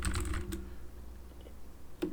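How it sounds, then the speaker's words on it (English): Typing on a computer keyboard up close, with a few quick clustered keystrokes at the start and a single clack near the end over faint background hum. "when we type a bunch of garbage, our backspace works"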